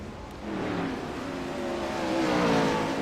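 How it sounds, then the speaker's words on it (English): A 410 sprint car engine roars steadily in a racing video game, set at Volusia, a continuous loud droning growl that swells slightly toward the end, with no talk over it. "may not be able to hear us over the roar of his engine"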